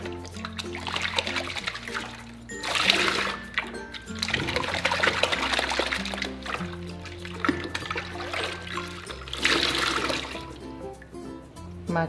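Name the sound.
rinsing hair extensions under running water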